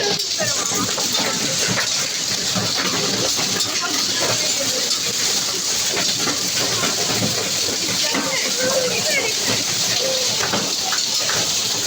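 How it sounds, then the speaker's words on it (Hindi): Heavy storm rain with strong wind, during a hailstorm, pours in a dense, steady roaring hiss that stays loud and unbroken throughout, with patters and splashes scattered through the downpour. "तूफ़ानी बारिश शुरू हो गई है और तेज़ हवा के साथ"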